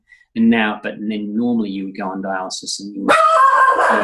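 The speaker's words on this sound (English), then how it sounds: "sorry about that. That's my dog." A pet dog barks and yips sharply indoors in short bursts, cutting in over and then drowning out someone talking, with the barking louder toward the end.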